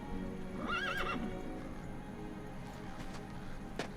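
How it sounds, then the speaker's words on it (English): A horse whinnies once, a high wavering neigh rising and falling over low rumbling background noise, followed by a few soft thumps. "That's a pretty horse."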